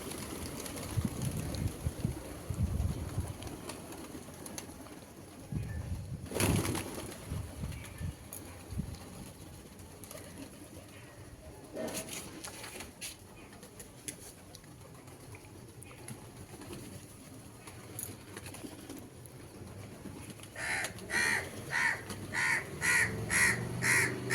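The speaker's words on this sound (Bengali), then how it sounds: "কাকগুলো খেতে পাচ্ছে না ডাকছে কীরকম" Crows caw repeatedly outdoors during a morning routine, scattered harsh calls at moderate distance over steady background noise, with a burst of rapid calls near the end.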